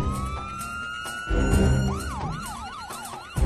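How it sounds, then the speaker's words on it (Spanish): An ambulance siren sounds nearby, first a steady wail, then a rapid rising-and-falling yelp that repeats several times. "Una ambulancia traslada de urgencia a Buchanan al hospital del condado de Montgo"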